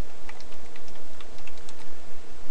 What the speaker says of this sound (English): let's type ls to list the files we have there